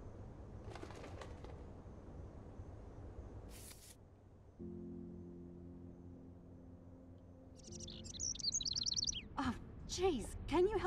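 Bird chirping and cooing in the Life Is Strange game, soft tweets and coos scattered across the stretch, rising into brighter chirps near the end, with a voice talking at times.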